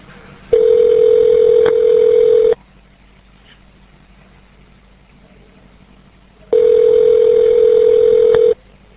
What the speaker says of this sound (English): Evercom, the number is now being dialed.